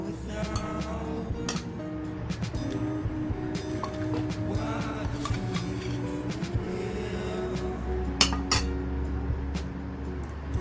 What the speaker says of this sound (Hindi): सबसे पहले मैं इसमें डालूंगी आलू चने और प्याज का मिक्सचर।